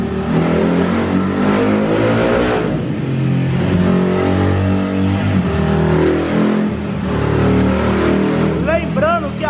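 A Honda Titan 150 with a 70 mm engine revs hard on a dynamometer in fifth gear, a loud, continuous rising engine roar up close, with voices talking over it.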